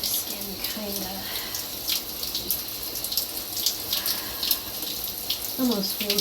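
Hot shower water pours steadily while legs are scrubbed with a scrubby, the hiss punctuated by soft splashing and rubbing, with faint bits of voice in places.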